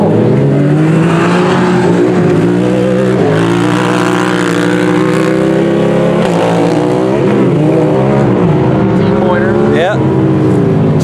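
Pro stock side-by-side race vehicles tear around an off-road short course at a county speedway. Loud, continuous engines rise and fall as they rev and shift, with people talking over the racket.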